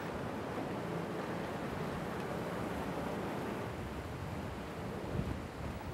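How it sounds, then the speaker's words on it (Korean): Rough sea waves churn near an island off the Korean coast, a continuous low rushing wash with wind buffeting the microphone, heard from a boat without talk. "섬에서 그리 멀지 않은 바다인데도 파도가 꽤 사납습니다."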